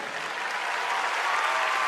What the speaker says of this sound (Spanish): Cuando aplaude uno, aplaudan todo.